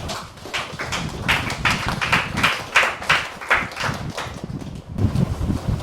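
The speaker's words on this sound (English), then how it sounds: "let's give him a round of applause" An audience at an eye-care symposium applauds in steady waves of clapping that swell and ebb over several seconds, close and fairly loud.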